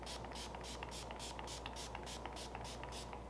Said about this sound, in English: So I'm going to hold this about 10 inches away from my face